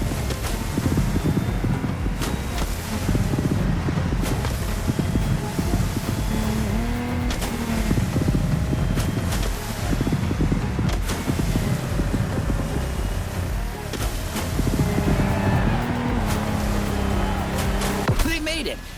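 Lamborghini Technomar speedboat racing in The Crew Motorfest video game, a steady engine drone with water and wind rush, loud and continuous throughout with brief shifts in engine pitch.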